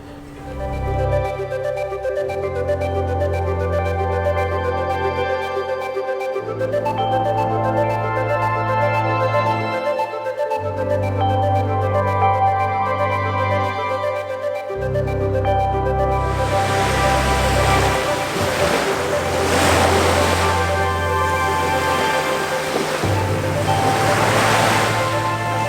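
Ocean waves washing up a beach and rolling back out, a steady loud rush of surf with sustained low background tones throughout and a brighter, hissier burst in the later part.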